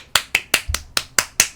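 Seven sharp, evenly spaced claps or snaps ring out one after another, close and crisp, with brief silences between each and no voices.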